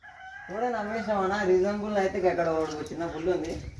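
A rooster crows in a long, wavering call lasting several seconds, loud and close, with a second crow starting near the end.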